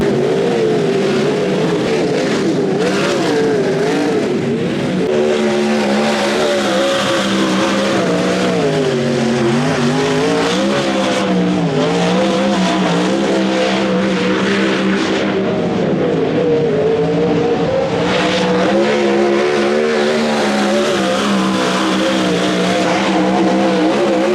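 Sprint cars run hot laps at Dubbo Speedway during the NSW Sprint Car Championship, their engines roaring loud and continuous and rising and falling as they pass and accelerate. No voices break through.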